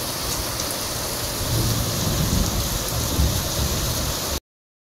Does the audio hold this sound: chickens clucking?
no